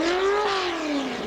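Pulling tractor engine revving hard at a 1986 tractor pull, a loud, steady high-pitched whine with a single rising and falling pitch sweep, close and continuous across the moment.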